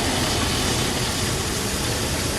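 A 1961 Buick LeSabre convertible's warmed-up V8 idling smoothly, a steady low rumble with even, unbroken texture throughout and no revving, heard close with no voices.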